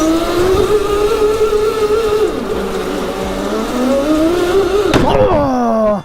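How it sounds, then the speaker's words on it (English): A race kart slides around a parking lot, its small engine droning and wavering in pitch as it drifts, then revving hard near the end before cutting off abruptly, close and loud with no talk. "they just took us to a parking lot so we can drift the race cart"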